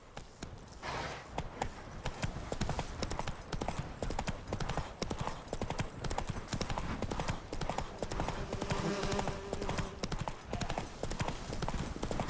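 Roach, a horse in The Witcher 3 game, trots with a brisk, steady clip-clop of hooves. The pace is continuous and fairly close, and a faint voice comes in briefly.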